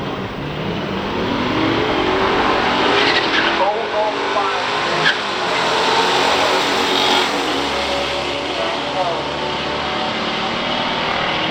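A 1966 Chevrolet Chevy II and a 1967 Pontiac GTO launch in a pure stock drag race final, with loud roaring engines, tire squeal and revving that carries on as the cars run down the strip, a commentator's voice in the mix.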